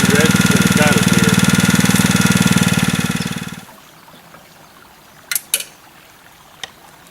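A small engine driving the pump of a Keene gold dredge runs with a steady, loud, even chug, then shuts down and winds away to quiet, leaving a few faint clicks and knocks afterward.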